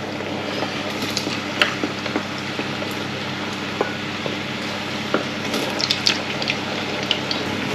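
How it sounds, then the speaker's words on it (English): Chips frying in hot, bubbling oil, a steady close hiss with scattered sharp crackles and pops throughout. "oil's quite hot there, bubbling away, so I'm going to put these chips in. You hear them sizzling."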